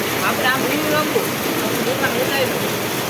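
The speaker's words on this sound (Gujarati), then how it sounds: "જોઈ શકો છો ગજબનો વરસાદ છે" Heavy seasonal rain pours down in Sakhvadar, with water flowing all around in a steady, dense broadband wash that holds constant and loud throughout, without any clear voices.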